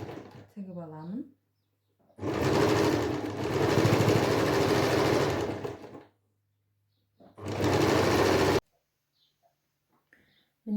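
Sewing machine stitching a pillow ruffle in two bursts, a long steady run and then a shorter one, loud and close, with a brief voice before and quiet gaps between.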